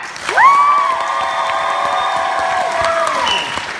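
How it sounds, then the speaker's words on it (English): A high school ComedySportz audience breaks into loud, sustained applause mixed with cheering and whoops, swelling quickly at the start and holding steady to the end. "If you feel it goes to the red team, clap now."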